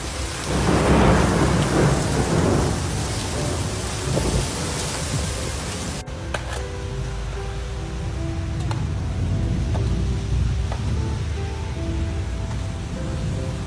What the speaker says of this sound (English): These guerrilla rainstorms, known for their sudden and unpredictable nature